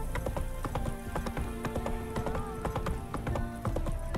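Horse hooves clip-clopping in The Witcher 3 as the horse moves at a slow walk, a steady run of close, distinct hoof knocks, with a faint neigh mixed in among them.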